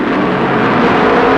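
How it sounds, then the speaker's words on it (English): NASCAR stock cars racing at Darlington in 1962, a continuous distant engine roar that holds steady throughout without any talk. "At the end of the backstretch, they're traveling 150 miles an hour, but slow down for the third turn."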